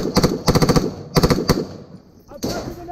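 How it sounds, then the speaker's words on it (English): Close-quarters gunfire in a combat firefight, several rapid bursts of automatic shots in quick clusters, loud and near, with a shouting voice in between. "Shoot in there!"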